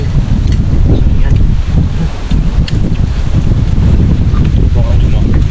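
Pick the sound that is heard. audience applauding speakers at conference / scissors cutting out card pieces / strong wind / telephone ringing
strong wind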